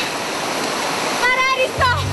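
The Leader waterfall in East Java roars as a loud, steady broadband rush of falling water, with a voice speaking briefly over it.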